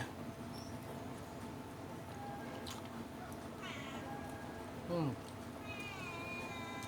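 A cat meows a few times, fairly faint and intermittent, over a steady background hiss with some distant indistinct voices.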